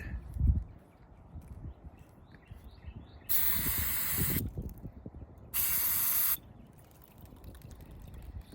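Two sustained hissing bursts of aerosol carburetor cleaner sprayed on a Honda CR-V PCV valve, each lasting about a second, with quieter mechanical shuffling and clicks between them.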